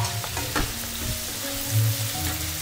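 Carrots and thick-cut capsicum stir-frying in a hot wok for chow mein, a steady close sizzle with occasional scraping stirs and clatter throughout, no talking.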